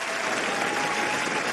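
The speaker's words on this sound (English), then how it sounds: "Listen to that crowd, Liz." A studio crowd greets a guest on a podcast-style show with loud, dense, continuous applause and cheering that stays steady from start to finish.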